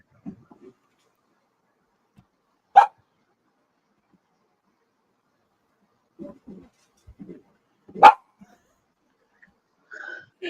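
A clingy, freshly groomed dog gives short, scattered barks and yips in a quiet room, with two sharper louder barks standing out between faint whimpers and breathy sounds.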